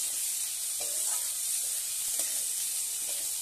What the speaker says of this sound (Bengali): পেঁয়াজটা আমি ভালো করে ভেজে নিচ্ছি ওখানে